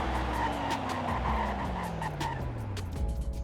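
A Ford GT500 brakes hard from top speed in Roblox Greenville, tires skidding and squealing in a long falling whine over the engine noise, loud and continuous.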